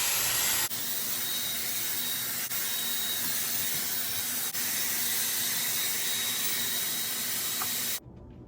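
A Dyson Airwrap blowing hot air to dry hair gives a loud, continuous close-up whoosh with a faint high whine, running steadily with no talking before it cuts off abruptly near the end.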